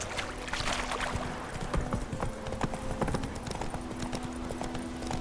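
Horse hooves clip-clop steadily on the ground while riding in the video game The Witcher 3, a continuous, fairly close rhythmic beat over soft ambient background.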